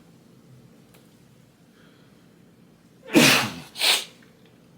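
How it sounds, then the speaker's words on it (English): A person sneezes in two quick bursts, a sharp intake followed by a second softer expulsion, close and loud after a quiet stretch of faint room noise. "I'm about to sneeze."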